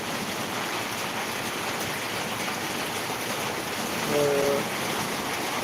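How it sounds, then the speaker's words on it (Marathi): Rain falling outdoors in Akluj, a steady broadband wash of water that continues throughout with no letup, while a brief tonal sound rises over it near the end. "हे पावसाचं दृश्य टिपण्याचा हा प्रयत्न सुरू आहे"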